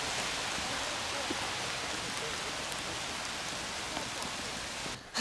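Steady rain falling and pattering on a surface, a dense even hiss throughout with no break until a brief dip at the very end.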